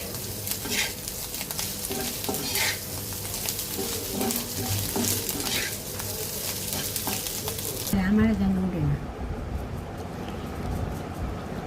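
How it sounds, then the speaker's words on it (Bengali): A coriander-leaf curry fries in a pan with a loud, steady sizzle, broken by repeated scraping stirs of the spatula against the pan, close by. "ধনিয়া পাতা দিয়ে দিয়ে এটাকে ভাজা ভাজা করে নামিয়ে নিব"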